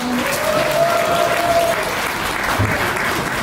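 Loud, dense applause from the audience at a university professorship inauguration ceremony, continuous clapping filling the room for several seconds.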